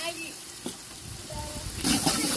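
Onions, green chillies and ginger-garlic paste fry and are stirred in a pot over a wood-fired stove, a steady sizzle with scraping stir sounds and a louder burst of frying near the end.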